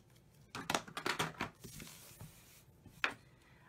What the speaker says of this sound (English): Okay, I think I'm going to cut these a little bit shorter.